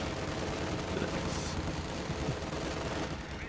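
Rapid SMG bursts and battle noise from Company of Heroes 2, a dense, loud, continuous wash of gunfire with a brief higher crack midway, no clear talk over it.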